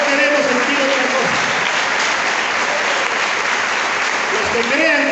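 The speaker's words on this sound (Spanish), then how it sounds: "Los que crean que Cristo vive, denle un aplauso a ese Cristo que vive." A church congregation bursts into warm, steady applause, many hands clapping together in a dense patter that holds throughout, with voices and brief cheers rising over it at the start and end.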